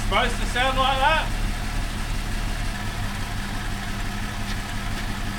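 A car engine runs at idle with kerosene mixed into its engine oil, giving a steady low rumble close by, while a voice briefly talks over it at the start.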